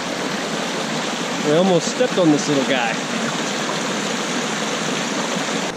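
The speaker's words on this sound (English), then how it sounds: "I found a nice little river." A small river along the Lakeshore Trail in the Great Smoky Mountains rushes with a steady, loud, broadband flow throughout, while someone speaks briefly over the water.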